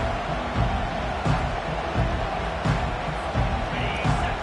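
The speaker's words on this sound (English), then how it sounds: "This crowd, full throat, spreading the eardrums" Stadium crowd at a Texas football game roaring and cheering loudly after a touchdown, a dense, sustained wall of voices with periodic swells.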